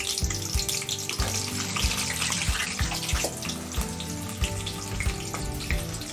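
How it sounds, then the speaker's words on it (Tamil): Garlic cloves and small shallots dropped into hot sesame oil for a Tamil vathal kuzhambu, giving a steady loud crackling sizzle with rhythmic clatter and scraping throughout, no voices. "எண்ணெய் காஞ்ச உடனே ஒரு 10 பல் பூண்டு போட்டுக்கலாம். ஒரு 10 சின்ன வெங்காயம் போட்டுக்கலாம்."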